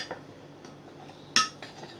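Spoon stirring a milk mixture in a pan, giving soft scraping clinks with one sharper metallic knock near the middle, close and fairly quiet.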